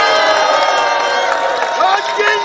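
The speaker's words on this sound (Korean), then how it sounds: "뜨거운 박수 보내주시기 바랍니다." A crowd at a political protest rally cheers and applauds loudly, with overlapping shouts and whoops forming a dense, sustained roar.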